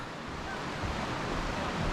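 Water flows at the source of the Bosna river near Igman as a steady broadband rush, fairly loud and close, with some wind noise and no clear talk.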